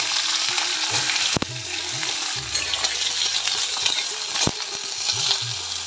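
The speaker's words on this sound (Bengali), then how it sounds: "মিডিয়াম হিটে কলা আর উচ্ছেটা ভেজে নিতে হবে" Green banana and bitter gourd fry in oil over medium heat with a dense continuous sizzle. Two sharp metallic clinks from a utensil against the pan stand out, and no one speaks.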